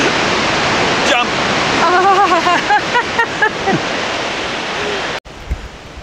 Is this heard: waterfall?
yes